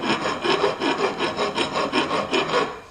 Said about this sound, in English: So I had to file this down on both sides to get this to fit over it